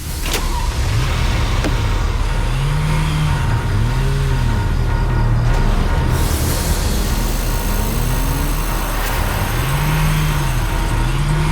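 A car pulls in and parks, its engine note rising and falling in a few swelling sweeps over steady road noise, with a sharp clunk near the end like a door or brake, fairly close and loud.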